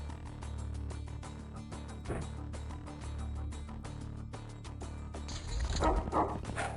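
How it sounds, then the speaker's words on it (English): A dog barks repeatedly in the pirate strategy game XPiratez, sharp yips over a busy game soundtrack, with a louder burst toward the end. "There's the dog."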